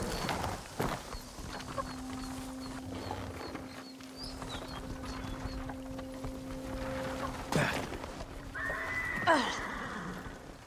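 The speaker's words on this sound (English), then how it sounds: "Follow those horses." Horses neigh and whinny in Ghost of Tsushima, with a sustained whinny early on, further snorts and cries, and a loud neigh near the end over a steady ambient game bed and light hoof movement.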